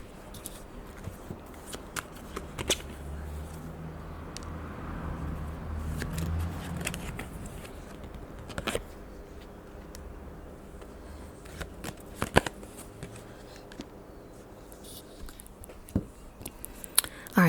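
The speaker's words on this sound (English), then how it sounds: "So let's pull a few extra cards actually." Tarot cards shuffled by hand close up, a soft continuous riffling rustle with occasional sharper snaps and taps, quiet and steady with no talking.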